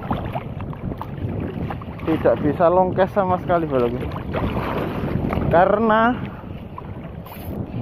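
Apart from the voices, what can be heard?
strong wind and waves at sea while fishing from a boat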